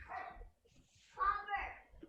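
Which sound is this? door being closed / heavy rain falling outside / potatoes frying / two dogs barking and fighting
two dogs barking and fighting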